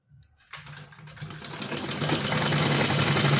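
Sewing machine running a straight seam on lace for a small cotton doll dress, starting with a few soft stitches then building into a steady, loud, continuous whir up close.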